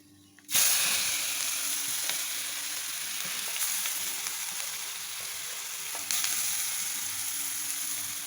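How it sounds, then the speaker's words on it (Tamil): Crushed ginger, garlic, onion, pepper and cumin drop into hot oil for tempering Kerala rasam, with a sudden loud sizzle that keeps crackling steadily, then flares up again as more goes in near the end. "மிக்சியில் க்ரஷ் பண்ண இஞ்சி பூண்டு வெங்காயம் குருமிளகு சீரகம் இதை வந்து போட்டு தாளிக்கணும்"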